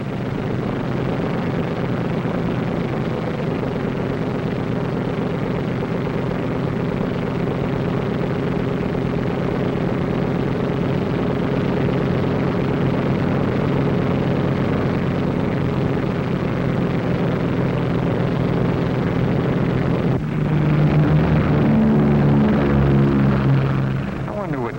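Fighter planes taking off and flying away in a 1944 wartime film scene, a steady, loud engine drone that holds throughout and swells slightly toward the end.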